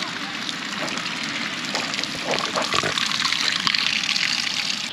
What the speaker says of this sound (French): La petite douche de plage,